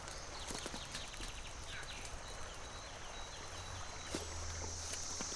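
Horse hooves clip-clop at a slow, steady walk in an outdoor Western setting, fairly faint and distant under a background of insects and birdsong.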